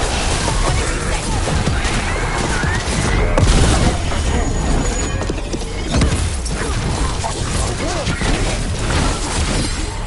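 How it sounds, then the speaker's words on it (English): Gatlock cannons fire during a Dragon Age: The Veilguard battle, a dense, continuous barrage of booms and clattering mechanical blasts that stays loud throughout, with combat noise layered over it. "Watch yourself. They have Gatlock cannons."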